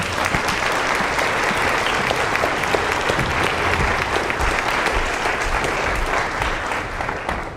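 Steady, dense applause from a conference audience greeting keynote speaker Anousheh Ansari at the SciAccess 2019 science gathering, a broad even clapping that fills the room without pause for several seconds.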